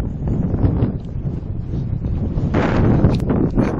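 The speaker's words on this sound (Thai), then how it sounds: "ลมก็ดีมากๆนะลมก็ดีนะ" Wind blows across the open desert dunes near Jaisalmer, India, during a camel ride, a steady rushing roar buffeting the microphone without a break and swelling slightly toward the end.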